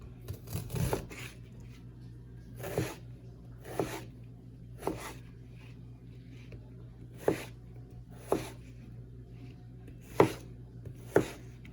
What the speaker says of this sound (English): And I'm just doing a loose chop on this.